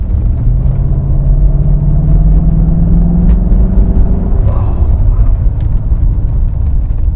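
A Mercedes-Benz W126 560SEL runs with a steady, loud low rumble throughout, and a drawn-out tone slowly rises in pitch before settling.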